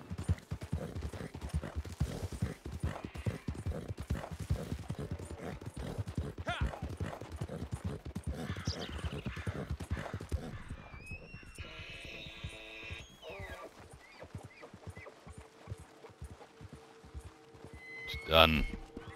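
Steady clip-clop of horse hooves trotting in an even rhythm for a long stretch in Red Dead Redemption 2 Online, with a voice talking over it and a louder thump near the end.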